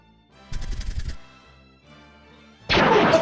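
Gunfire in the anime Jujutsu Kaisen: a short, loud burst of shot, then a quieter stretch and a second loud blast at the end, with no voices.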